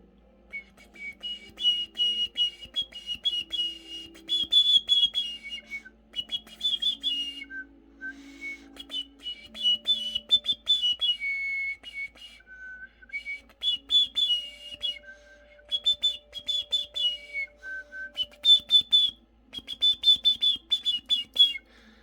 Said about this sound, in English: And I just made that whistle.